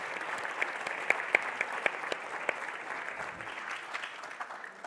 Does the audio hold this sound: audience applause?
yes